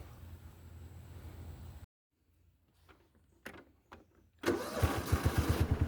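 A Cub Cadet riding mower engine starts after a stretch of steady noise, a silent gap and a few knocks and clicks. It catches loudly and close, settling into a rhythmic, pulsing idle.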